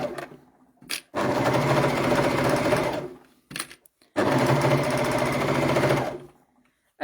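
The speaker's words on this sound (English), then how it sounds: "And then we're just going to sew straight down that seam." An overlocker sews a straight seam on children's leggings, its blade turned off, in two loud, fast, buzzing bursts of about two seconds each, separated by short pauses with small handling clicks.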